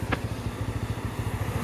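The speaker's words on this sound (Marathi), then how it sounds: "मस्तपैकी कर्जत खोपोली रोडला लागलोय आणि श्रेयसची बाईक आणलेली आज" A motorcycle rides along the Karjat–Khopoli road on a monsoon trip. Its engine throbs in a steady, close, pulsing rumble through the whole moment.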